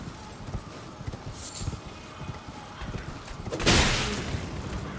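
A horse in Elden Ring gallops with steady, rapid clip-clop hoofbeats close by. A whinny-like cry and a rushing burst rise near the end over faint game ambience.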